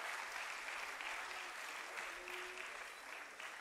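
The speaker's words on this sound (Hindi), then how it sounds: "Huge round of applause, ladies and gentlemen." Sustained applause from a large audience at a university of health sciences convocation honoring medal winners, an even, continuous wash of clapping, fairly distant and soft.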